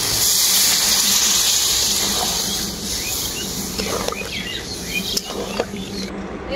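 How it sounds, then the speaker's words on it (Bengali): Water poured into greens being sautéed in a pan sets off a loud, steady sizzling hiss that slowly fades, with a few faint chirps in the background. "এখন আমি এর মধ্যে দিয়ে দেব পরিমাণ মতো জল।"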